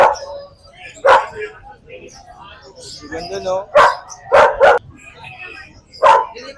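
Several dogs bark and yip in short, sharp bursts at a pet market, some close and loud, spaced irregularly while a person talks between them.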